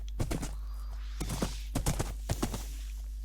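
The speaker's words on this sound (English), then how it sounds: "I don't know if it is quicker to ride on a horse." Horse hooves clip-clop during a ride in a video game, with several uneven clusters of close, crisp hoofbeats over a steady low hum.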